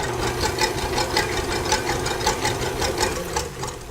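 An electric hand mixer whisks room-temperature egg whites for raspberry macaron meringue at low to medium speed, giving a steady, close motor whir with a rapid rhythmic beating pulse throughout.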